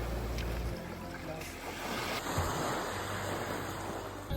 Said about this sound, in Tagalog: Paminawa ra gun ang dagat guys,